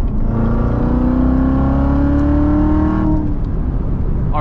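A loud Corvette C7 Z06 engine close by, its revs dropping with a fourth-to-third downshift and then climbing steadily under hard acceleration before easing off.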